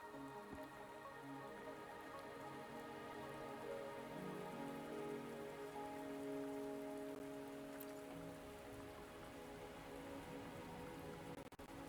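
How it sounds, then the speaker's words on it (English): Steady rain falls in the video game Wuthering Waves, a continuous soft patter across surfaces with no break, over a low background tone. "Are you trapped here by the rain?"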